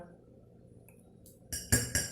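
A knife clicks and clinks sharply against a glass plate while cutting food, three quick bright strikes after a quiet stretch of faint background hum.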